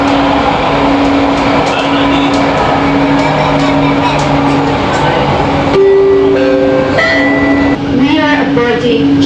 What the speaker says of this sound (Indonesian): Ini LRT-nya udah nyampe guys